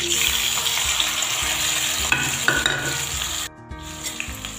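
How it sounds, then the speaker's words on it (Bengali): Spinach paste sizzles in hot oil with cumin, cinnamon and dried chilli, a steady loud frying hiss with stirring scrapes throughout, dipping briefly as the paste goes in near the end. "ফোড়নটা ভাজা হয়ে গেছে, এবার আমি পালং শাকের পেস্টটা দিয়ে দেব।"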